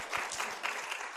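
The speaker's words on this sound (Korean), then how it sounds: "우리 박수 한번 드릴까요?" A church congregation at a Wednesday prayer service applauds, a short, fairly soft burst of clapping from a small group that fills the whole moment.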